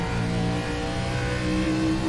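A race car engine revs hard on throttle at a short track oval, a loud, sustained rising drone with strong harmonics, close and continuous with no talk.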